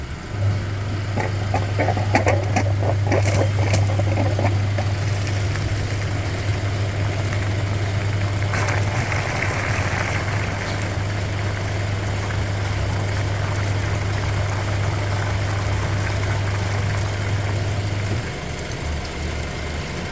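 A radiator flushing machine cleaning a car's heater core runs with a steady low motor hum and churning, watery noise, continuous and fairly loud, then the hum cuts out near the end.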